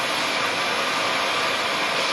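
A torch roars in a steady, close, unbroken broadband hiss while it heats the middle of a lockpick blade, with no change in level throughout.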